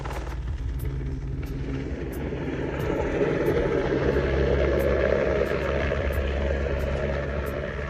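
A helicopter circles overhead, its low rotor rumble steady and distant and swelling slightly midway, with faint background noise and no clear speech.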